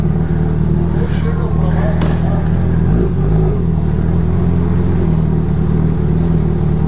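A Kawasaki Z1000 motorcycle engine hums steadily and loud nearby, with a brief surge in revs partway through while people talk over it.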